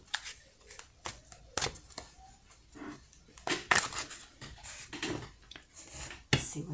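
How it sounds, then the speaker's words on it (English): Tarot cards are shuffled by hand close up, giving a series of quick, irregular riffling snaps and soft slaps of varying loudness with brief pauses between bursts. "So let me shuffle."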